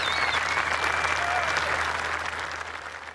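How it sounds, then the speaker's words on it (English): A golf gallery at The Open breaks into loud, sustained applause and roaring cheers after back-to-back birdies, a dense wash of clapping that fades slightly toward the end. "listen to the roar from the crowd, which follows this young man around"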